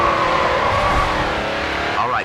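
Race car engine held at high revs while drifting in the GRID 2 racing game, a steady loud droning roar with a brief rising squeal near the end, under a spoken co-driver instruction.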